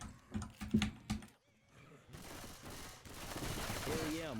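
Gunfire bursts in Left 4 Dead 2: a few loud, sharp shots in quick succession at the start, then a denser stretch of continuous game noise and scattered shooting. Voice chat is heard partway through.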